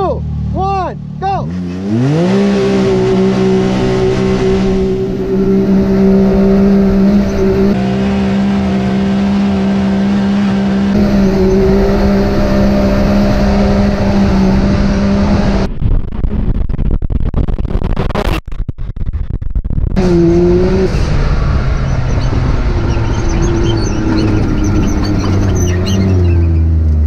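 Two four-wheel-drive dune vehicles on paddle tires race across sand, engines revving hard and rising in pitch as they launch, a loud sustained roar with gear shifts, a brief dropout, then engines winding back up, with voices over it.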